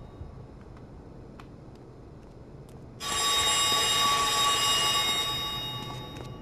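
A loud, shrill electronic phone ring suddenly blares from a game world in Manhunt, sustained and piercing for several seconds over a low background rumble before slowly easing off.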